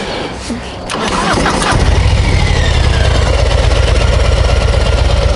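A Harley-Davidson Low Rider motorcycle engine being ridden gently during break-in fires up after a brief clatter and settles into a loud, steady, deep rumble close by.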